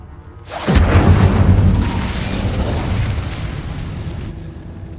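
A powerful fire spell blast in Hogwarts Legacy erupts suddenly as a loud, booming whoosh, then settles into a long roaring rumble that slowly fades.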